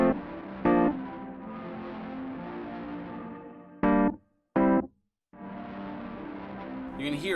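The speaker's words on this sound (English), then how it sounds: "you can hear how long it waits before the actual delay sounds, or the reverb sounds" Eventide Mangledverb reverb on iPad with pre-delay turned up, processing distorted instrument notes; short chords cut off into silence before the reverb tail swells in after a noticeable gap, loud and alone.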